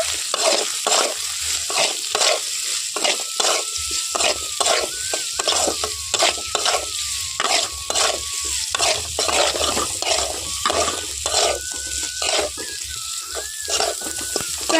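Green chili, onion and garlic fry in oil with salt, stirred briskly with a utensil scraping the pan in quick repeated strokes over a continuous loud sizzle, no talking.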